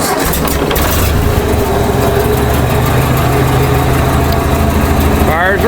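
A 1956 Ford 850 tractor, its cylinders fouled with dirt and leaves, is started with the push-button starter and settles into a loud, steady idle nearby, with a brief rising whir near the end.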